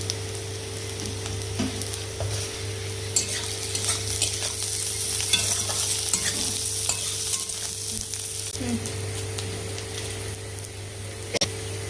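Chopped onion and ginger fry in hot oil for rajma, giving a steady, loud sizzle with a constant hum beneath and occasional stirring scrapes.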